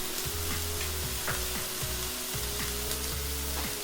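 Chopped red and green peppers frying in a cast iron skillet, a steady close sizzle with spatula scrapes and stirring knocks, no voices.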